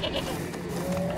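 A goat bleats briefly in the video game Far Cry 2, with a short wavering call that rises over the game's ambient background.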